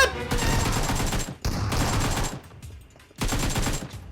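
Dense bursts of automatic gunfire and shotgun blasts from the PUBG Metro Royale battle mode, coming in three loud sustained volleys separated by brief pauses, with no speech over them.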